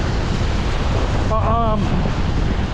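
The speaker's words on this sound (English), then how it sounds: "And yeah, it is fierce wind." Strong, fierce wind blowing on a seaside beach with heavy surf, a steady loud roar and wind buffeting the microphone throughout, with a brief voice speaking partway through.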